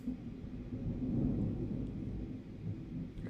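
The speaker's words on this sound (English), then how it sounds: "Hear the thunder outside my house." Deep thunder rumbles continuously outside a house during a tornado-warning storm in Arkansas, a loud, rolling low roar that swells and fades without a break, with no talking.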